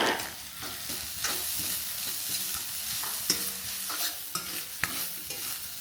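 Kerala-style thoran being stir-fried with half a grated coconut added, a continuous sizzle in the pan punctuated by repeated scraping stirs and small knocks of the spoon, close and without talk.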